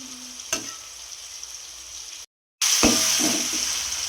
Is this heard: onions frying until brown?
yes